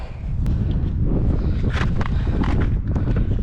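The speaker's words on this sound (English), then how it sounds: "So the wind is really bad here, guys." Strong wind buffeting an unshielded camera microphone out on thick lake ice, a loud continuous low rumble with gusty crackles and rustles, no talk.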